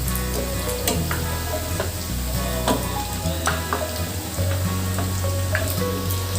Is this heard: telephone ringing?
no